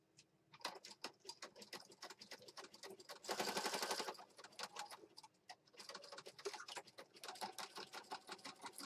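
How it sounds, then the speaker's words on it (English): A sewing machine stitches across a paper junk journal page in quiet, rapid ticking runs, with one denser, louder burst of stitching in the middle, all close and alone without speech. "I'll just sew all the way across from one edge to the other."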